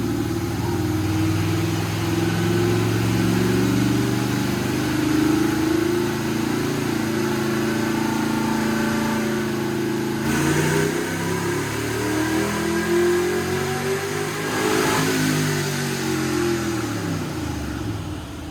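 A 1965 Corvette barn find's engine idles steadily, then is revved twice, pitch sweeping up and back down, loud and close with no talking.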